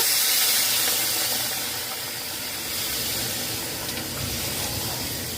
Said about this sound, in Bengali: মশলা থেকে তেল ছেড়ে দিয়েছে এখানে আমি দু কাপ গরম জল নিয়েছি